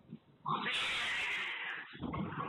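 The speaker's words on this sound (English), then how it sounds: "I mean, that's a cat." A cat lets out a loud, drawn-out yowl lasting over a second, rough and strained, heard close with faint background sounds around it.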